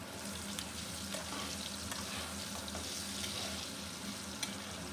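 Potatoes frying in oil with a little salt added, giving a steady close sizzle and crackle throughout with a few faint stirring knocks, no voices.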